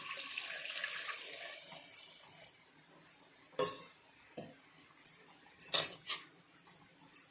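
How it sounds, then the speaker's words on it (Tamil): Water poured from a small vessel into a cooking pot of onions and tomatoes for tomato sambar, a soft splashing pour early on, followed by scattered light clinks and taps of kitchenware in a quiet kitchen. "ரெண்டு டம்ளர் தண்ணி ஊற்றிக்கலாம்."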